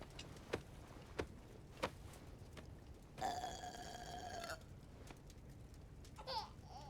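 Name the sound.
baby burping in King's Quest video game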